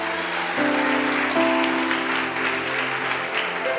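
A church congregation claps loudly and steadily throughout, a dense wash of applause with sustained musical tones held underneath.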